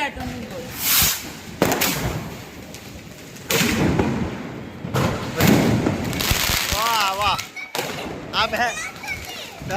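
Large Diwali firecrackers burst in sharp, loud blasts at irregular intervals, with excited children's voices and shouting between the explosions.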